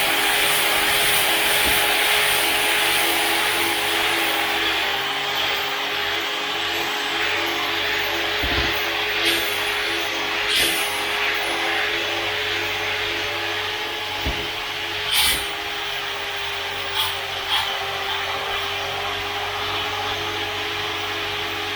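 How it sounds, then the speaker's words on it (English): Grinding disc stripping old paint from a 1972 Chevy Nova body during rust and dent repair, a steady loud abrasive whir that runs continuously with occasional brief scraping spikes. "That's why I use the grinding disc."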